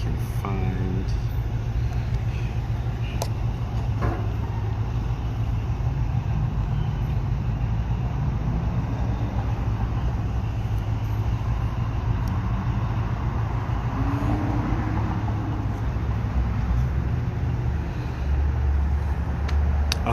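Steady street traffic rumbles outside a coffee shop, a continuous low drone of passing cars, trucks and buses, with someone talking close by over it throughout.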